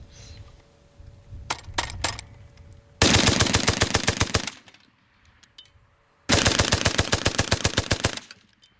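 A water-cooled machine gun on a range fires two long, loud sustained bursts of rapid evenly spaced shots, with a few single shots and a quiet pause between them.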